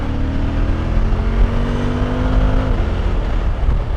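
Suzuki V-Strom 1050DE motorcycle engine pulling hard under acceleration, a steady close droning roar with rising then settling tonal whine, heard alone without talk.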